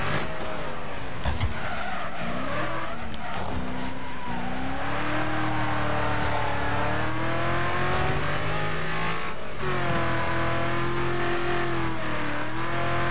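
Race cars in the video game Wreckfest roar through a corner, engines revving and shifting pitch while tires skid and squeal loudly, with several cars close together on the track.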